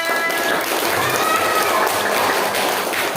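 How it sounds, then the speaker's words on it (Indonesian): A crowd applauds in a dense, steady wash of clapping that fills the whole moment, loud and close. "Mana tepuk tangannya?"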